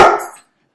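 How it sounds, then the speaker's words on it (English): A single sharp dog bark, close and loud, cutting off quickly into silence. "That's my dog."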